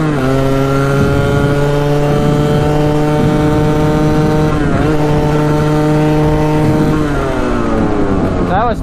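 A Yamaha Tri-Z ATV engine drones loudly and steadily close by as it struggles to clear out, with brief dips in pitch and a rising rev toward the end.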